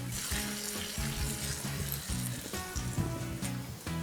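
Buttered bread sizzles face down in a hot pan, four slices at once, a close steady crackle of frying with light scraping and clinks of a utensil.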